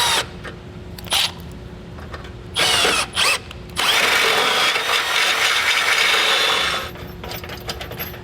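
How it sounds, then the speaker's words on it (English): A rotary burr bit grinds out factory metal on the frame of a 2022 Ford Maverick, a loud high whine running in short bursts and then one long sustained grind before easing off. "So I'm gonna just go back with my burr bit here and just grind out just enough to get that bolt to be able to"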